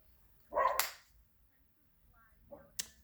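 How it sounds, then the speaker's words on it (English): A pet dog gives two short, sharp barks from inside a house, one loud burst near the start and a fainter, more distant one near the end, with quiet between them. "So I may have to lock him in the house to keep him from barking all through the video."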